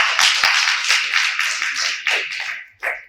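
Clapping from an audience at a panel discussion, a dense burst of hand claps that thins out toward the end, with a short final flurry, close and fairly loud.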